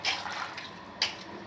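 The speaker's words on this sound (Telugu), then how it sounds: "ఒక్కసారి నీళ్ళు పోసి" Water is poured into a cooking vessel while a chicken curry and white rice meal is being prepared. Two short splashing bursts, faint and close, with no talking.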